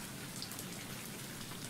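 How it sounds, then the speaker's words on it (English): Steady rain pelts the ground in the Sew in Love video game, a dense even patter of drops that holds at the same level throughout with no voices. "Imani stares out into the rain. It's slowing down, but still pelting the ground."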